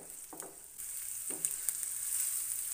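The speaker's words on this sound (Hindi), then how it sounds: "अब हम इनको हल्का सा क्रंची होने तक फ्राई कर लेंगे।" Chopped onion, capsicum and carrot sautéing in a pan, giving a steady hissing sizzle with a few scraping stirs and light pops, close and moderately loud.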